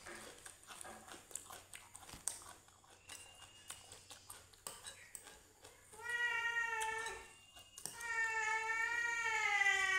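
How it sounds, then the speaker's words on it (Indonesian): Cat meowing indoors in several drawn-out, rising and falling calls in the second half, after scattered clicks and soft chewing-like noises, fairly close. "Maaf berisik, ada kucing teman-teman."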